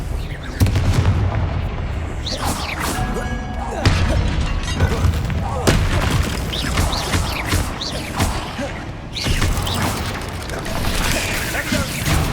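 Confringo blasting spells cast repeatedly during combat in Hogwarts Legacy, with loud bursts and shattering booms in quick succession over a busy, continuous game soundscape, with a voice mixed in.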